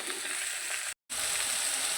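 Spices, chopped green chillies, tomato, ground cumin and ginger sizzling in oil for a katla fish curry, a close steady hiss with a momentary break in the middle.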